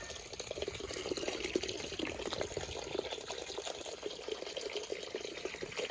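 Water runs steadily in a kitchen under construction, a continuous broadband rush with faint splashy texture and no voices.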